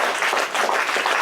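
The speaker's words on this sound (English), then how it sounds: "Give yourselves a round of applause." Applause from a worshipping congregation at a Shabbat gathering, a dense steady patter of many hands clapping together, sustained and fairly loud through the short moment.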